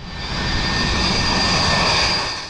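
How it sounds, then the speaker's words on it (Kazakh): Airplane flying low over a beach, a loud, close roar of aircraft engine that swells in and holds steady as it passes overhead, with no voices. "ұшақ ұшып келе жатыр."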